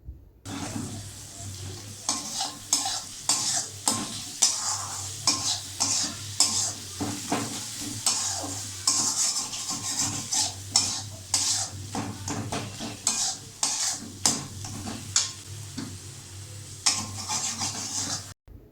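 Spices and chopped tomato frying over a low flame for a fish curry, close sizzling with steady repeated scraping and clinking of a spoon against the pan, no voices.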